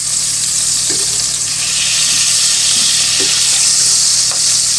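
Steady, bright sizzling of butter frying in a hot pan with a little water added, continuous and close, with a few faint clinks and stirring sounds underneath.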